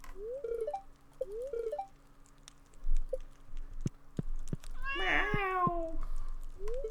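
A cat meows in the Stardew Valley farming game, a short series of clear, close cries over a quiet background of soft game music and tapping effects.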